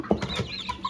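Several short, close chicken clucks sound in quick succession, brief and fairly loud, with no talking.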